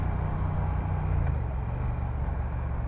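A Triumph Thruxton motorcycle being ridden, its engine droning steadily and loud up close with a low, continuous rumble throughout, with no talking.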